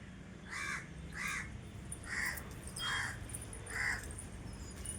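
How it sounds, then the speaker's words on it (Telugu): Crows caw in the morning, five short, harsh calls spaced evenly about half a second apart, moderately distant over a quiet outdoor background. "పొద్దున్నే వచ్చినాయి కాకులు, వినండి"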